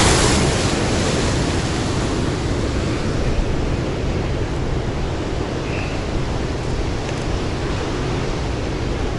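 Ocean waves surge against the rocky San Francisco coast in a continuous, loud, close roar of surf mixed with wind.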